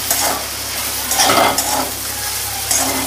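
A potato mixture with turmeric, coriander-cumin powder and garam masala is stirred in a frying pan for vegetarian aloo chop, producing a constant close sizzle with a few louder scraping strokes of the spatula and no talking.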